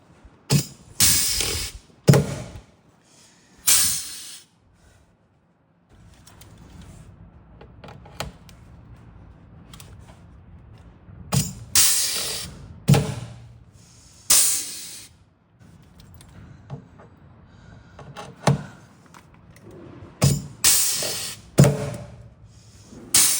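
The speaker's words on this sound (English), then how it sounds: "I'm going to use the rivet gun to do that job as well." A rivet gun fastening a leaking boat bung that has been sealed with silicone. It gives a series of sharp, loud, hissing bursts at irregular intervals, with quieter mechanical handling noise in between.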